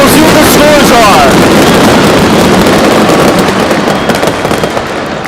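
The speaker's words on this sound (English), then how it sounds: "Gotta love the fireworks." Loud fireworks crackle and burst continuously over a roaring crowd at a Monster Jam event in Tampa, a dense, sustained wash of pops and noise that tapers slightly toward the end.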